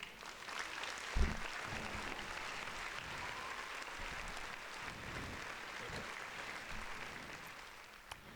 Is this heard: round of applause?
yes